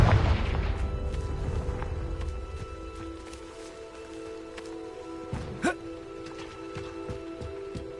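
A Confringo blast spell explodes in the Hogwarts Legacy video game: a deep boom at the start fades into a low rumble and quiet ambience, followed by a small thud a few seconds later.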